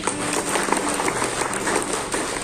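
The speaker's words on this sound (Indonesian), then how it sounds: "Boleh tepuk tangan kita semua." An audience applauds at a political talk in Bengkulu, producing a steady, dense wash of clapping that holds at an even level for the whole stretch without a clear peak.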